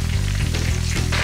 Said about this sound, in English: now let's start frying. First, fry the meat skewers and then veg ones.